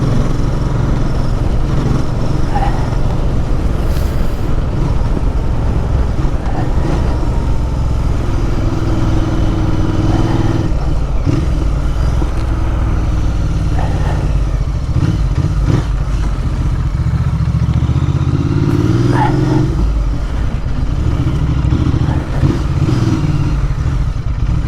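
Interlayan 650 motorcycle engine running steadily at close range for the whole stretch, its loud low rumble rising into a few revs without any talk over it.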